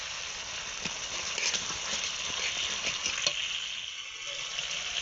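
Chopped tomatoes sizzle steadily in spiced oil in a pan, a constant hiss with a few soft stirring knocks, close and moderately loud, with no voices.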